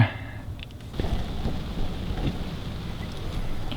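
Steady rain falling outdoors with a dense, continuous hiss and patter that grows heavier after the first second, close and loud, with a low rumble underneath and no voices.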